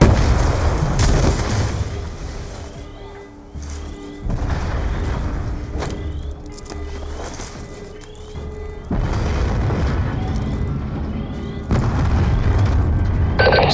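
Repeated deep booms of explosions across a facility in Call of Duty: Black Ops 2 rumble in waves, with heavy low-end blasts and a constant roar of background effects.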